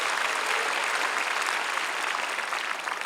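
Sustained applause from a church congregation during a Sunday worship service, a dense, steady wash of many hands clapping at once with no talk over it.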